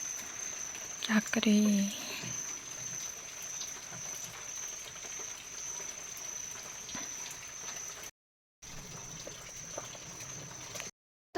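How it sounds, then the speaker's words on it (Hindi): Continuous rain falls outside a village home as a soft, steady patter under a constant high hiss. Someone speaks briefly near the start. "बाकी अभी भी बारिश पड़ ही रही है लगातार,"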